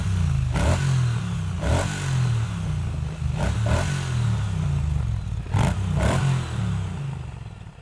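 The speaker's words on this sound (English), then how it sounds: "Yeah, it doesn't sound too bad, really, for a stock pipe." A Triumph Bonneville T100 on its stock exhaust pipe is revved in several sharp blips over a steady low engine rumble, each burst rising and falling quickly, loud and close.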